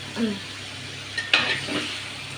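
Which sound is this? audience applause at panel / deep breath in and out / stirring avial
stirring avial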